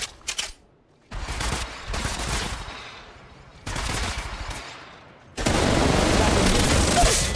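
Gunfire from a mobile shooting game played on a Poco X3 Pro phone: rapid automatic bursts, a short one, then longer sustained volleys separated by brief gaps, ending in loud continuous fire.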